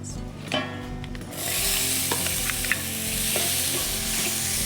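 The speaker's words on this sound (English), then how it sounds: "First I'm going to saute some onion." Onion is sautéed in a frying pan for a Provence-style tartine dish, opening with soft handling and clinks before a loud, close, continuous sizzle takes over with occasional stirring scrapes.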